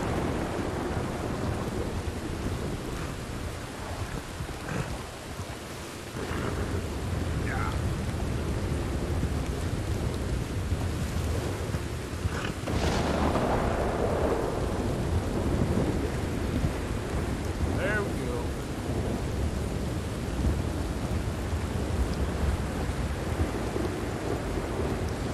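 Rain and thunder in Red Dead Redemption 2: a constant rain hiss with low thunder rumbling and rolling through it, including a stronger rumble midway, with no talking.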